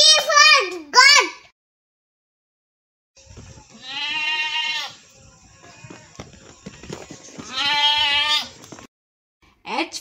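A goat bleats twice in long, wavering cries, close and loud, after a voice speaks briefly at the start and again at the end.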